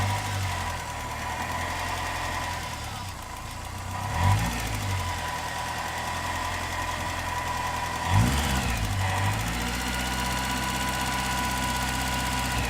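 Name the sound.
sports car engine idling, slightly rattly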